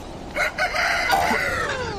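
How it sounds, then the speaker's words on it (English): A wind-up mechanical bird gives a loud, close rooster crow in a radio comedy, a single drawn-out cock-a-doodle-doo rising after two short opening notes, heard alone. "It's my job to wind up the mechanical birds to greet the dawn, see?"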